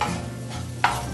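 Spices crackle and sizzle in hot oil as a tempering is made for a mushroom bhaji, a short close-up burst with a sharper pop near the end.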